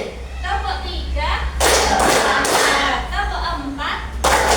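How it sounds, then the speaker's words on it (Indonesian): Classroom of children doing a rhythmic cheer clap pattern, a teacher's voice counting off between bursts of clustered hand claps that swell to loud, near, broadband patter and then stop. "kita tepuk semangat terlebih dahulu ya"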